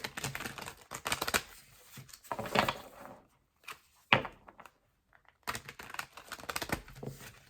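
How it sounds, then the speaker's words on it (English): Papery rustling and rapid flicking of tarot cards being shuffled in several bursts, with short quiet gaps between them, close to the listener. "give them a really good proper shuffle"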